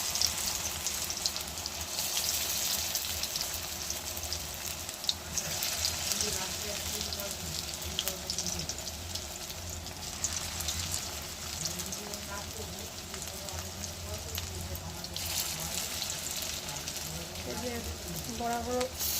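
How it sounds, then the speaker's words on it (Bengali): Fritters made from meat fat fry in a little oil, a dense continuous sizzle like steady rain held close throughout, with a voice talking faintly underneath. "বড়াগুলো দেওয়া হয়ে গেল, এটা ভাজা হতে থাক।"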